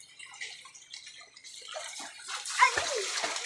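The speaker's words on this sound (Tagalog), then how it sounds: "Nag-dive na si Murnay" A splash of someone diving into a backyard swimming pool, a short plunge near the end set among running water and dripping, with faint voices nearby.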